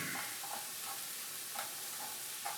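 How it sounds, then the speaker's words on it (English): A knife chops garlic on a cutting board while lasagna is prepared, giving soft, quiet taps at a steady pace of about two per second, with no talking. "So you just basically chop your garlic, start chopping it,"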